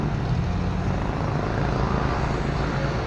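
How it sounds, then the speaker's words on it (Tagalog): A Toyota Corolla XL5 engine runs with the air conditioning on, giving a steady, dense, close-up rumble that holds unchanged throughout with no talking. "malamig na aircon yan, walang kalampag. Tahimik makina mga master oh."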